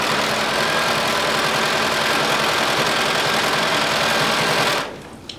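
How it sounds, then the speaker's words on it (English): Sewing machine running steadily while stitching the side seams of a fabric top at a 5/8 inch seam allowance, a continuous close whirring hum that stops abruptly near the end. "we're going to sew using a 5/8 of an inch seam allowance all the way up the sides"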